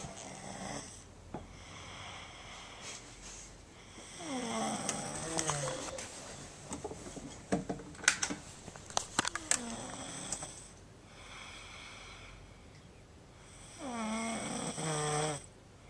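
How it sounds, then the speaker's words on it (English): A man snores loudly, rasping snores repeating in long rhythmic breaths, each swelling and fading, with brief pauses between them. "So you asked if you snore? Yes, you snore"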